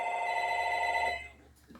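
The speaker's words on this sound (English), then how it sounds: "That's just my phone ringing." A phone rings with a steady electronic tone that cuts off partway, heard faintly in a quiet room.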